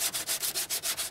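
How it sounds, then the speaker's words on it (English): Rhythmic scratchy hand sanding of body filler with 80 grit sandpaper, quick back-and-forth strokes about eight times in a second, close and fairly loud with no talking. "So, Wayne, we're sanding it with 80 grit"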